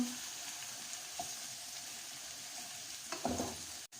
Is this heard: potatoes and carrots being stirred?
yes